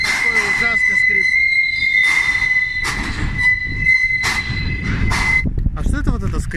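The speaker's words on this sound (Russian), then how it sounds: "Это тормозные путя, когда вагон с горки спускается, сортируют же." Loud, sustained high-pitched squealing of rail wagons rolling down a hump in a freight sorting yard in Astana as brake retarders grip their wheels, piercing tones rising and fading repeatedly over rumbling wheel noise, with voices talking nearby.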